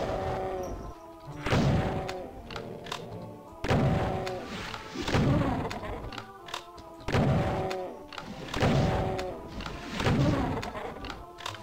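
Rocket launcher shots in Doom II, a steady series of heavy booming blasts roughly every second or two, each with a rumbling tail, loud and close with no talking.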